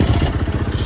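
Newly bought motorcycle engine idling close by, a steady rapid pulsing thrum with light mechanical clatter, heard alone for under a second.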